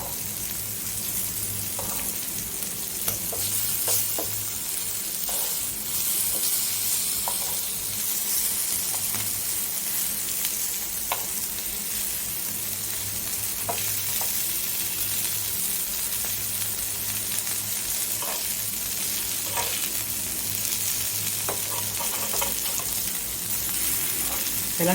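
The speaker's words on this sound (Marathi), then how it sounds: "मी आता टाकलेले आहेत फ्राय करायला कोलंबी." Prawns frying in a pan, coated in semolina and chili powder, giving a steady, loud, continuous sizzle throughout with occasional small clinks and stirring noises, no voices.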